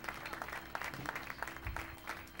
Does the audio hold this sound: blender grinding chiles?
no